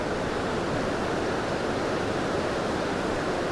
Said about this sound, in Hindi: गुलेन वैली से ये पानी आ रहा है, ये दरिया आ रहा है